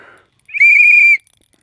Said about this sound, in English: we're going to test this whistle